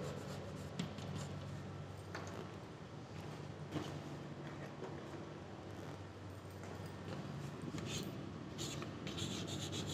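A pen scratches and rubs across paper while someone fills in notes for a mental state examination, a continuous close, quiet scribbling with small irregular strokes and no talk.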